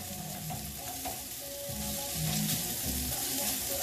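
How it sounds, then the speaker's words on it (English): Hash browns and onions frying in a pan while being stirred, a dense continuous sizzle with low scraping strokes of a utensil, close and steady, without voices. "we're just going to stir these up a little bit. Mix them in with them onions"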